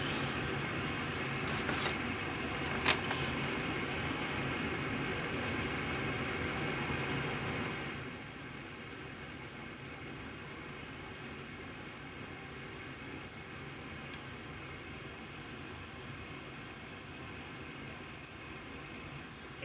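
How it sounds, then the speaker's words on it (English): A furnace's induced draft motor runs with a steady broadband whir and hiss, loud at first then settling to a lower, even hum, alone without talk. "Induced drive motor."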